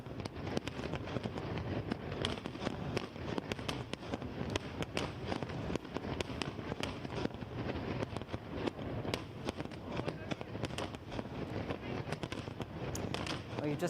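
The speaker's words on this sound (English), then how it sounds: "you've just been looking at these live pictures from Bangkok, Thailand, of a special fireworks display to ring in the new year" A New Year fireworks display over Bangkok, Thailand, with a continuous barrage of crackling bursts and pops heard from a distance, busy and dense for the whole stretch, blended with crowd and wind noise.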